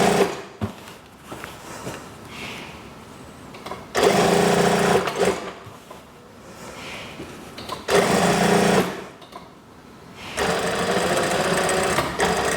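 A sewing machine stitches a curved seam on a kimono-style daster in three loud bursts, each a few seconds long, separated by quieter pauses with faint handling noise.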